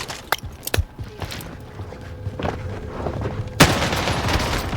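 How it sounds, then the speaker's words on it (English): G43 rifle fire in a video game, with several sharp, loud reports spaced irregularly among other in-game gunfire and clatter, and a heavier burst near the end. "What gun was that? I gotta find out what gun was that. That was the G43."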